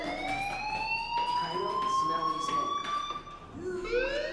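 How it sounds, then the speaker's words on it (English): A fire alarm in the video game Life is Strange rings steadily as a rising electronic siren tone, held loud and close throughout with a brief dip near the end. "Hey, do you hear that fire alarm?"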